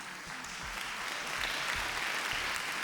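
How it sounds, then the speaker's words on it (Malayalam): A studio audience at a television quiz show claps, a steady wash of applause that runs evenly throughout at a moderate distance with no talking. "ഇക്കുറി നിങ്ങളുടെ വലിയ കയ്യടി വേണ്ടി വരും"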